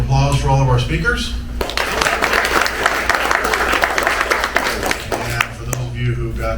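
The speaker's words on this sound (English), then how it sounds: "Round of applause for all of our speakers." Audience applause for the speakers at a live history-center tribute show, a dense burst of clapping rising after a voice, then fading back into talk.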